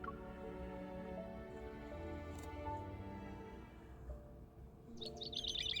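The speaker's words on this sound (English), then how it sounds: "In the hazy state between sleep and being conscious, I hear birds chirping." Birds chirping quietly in the distance, a few scattered tweets over a soft tonal background hum, with a brighter burst of chirps near the end.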